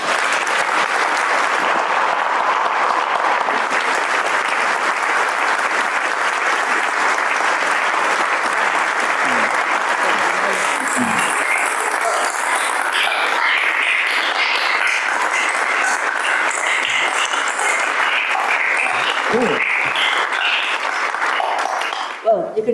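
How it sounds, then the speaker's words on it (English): Sustained, loud applause from a large audience after the Reynolds Lecture on international justice, a thick continuous roar of clapping lasting over twenty seconds, with a few faint voices near the end. "you can hear from the applause just how appreciated that was."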